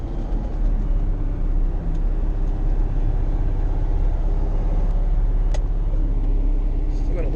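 A Ferrari Testarossa engine idles a little high, giving a steady, close, rumbling drone that holds an even level throughout with no revving.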